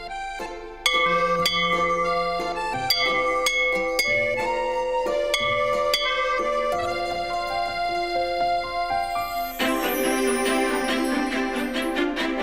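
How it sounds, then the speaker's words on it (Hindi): A school bell: bright bell tones chime in a melodic run, then a denser, shimmering ringing takes over near the end, loud and continuous. "स्कूल की घंटी बजा थे।"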